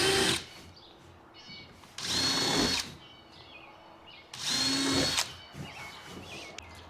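A power drill whirs in two bursts of about a second each, drilling into a plastic Lifetime Manta fishing kayak, separated by quiet pauses with faint handling noises.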